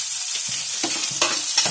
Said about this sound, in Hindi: तो मैंने थोड़ा सा फ्राई करना है अदरक के साथ ही